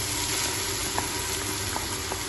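Onions for mutton biryani fry in a pan with a loud, continuous close sizzle and a few small crackles and pops, no one speaking.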